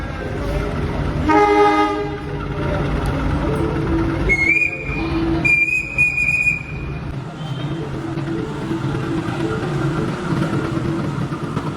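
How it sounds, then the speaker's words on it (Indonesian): The Bogowonto train with stainless steel carriages pulls into a station platform, its horn sounding in a couple of blasts over a steady rumble of rolling wheels and station ambience. "di jalur 5 ini masuk kereta api Bogowonto dari stasiun Lempuyangan menuju ke stasiun Pasar Senen"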